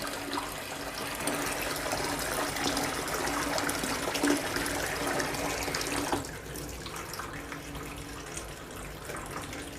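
Continuous gush of water running out of an SD501 electrolysed water machine's pipes, steady for about six seconds and then dropping to a quieter flow, with no talk.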